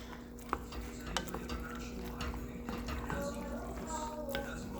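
Spaghetti and meatballs being stirred in a pot, with scattered light clinks and scrapes of a utensil against the pot over a steady background hum, close by.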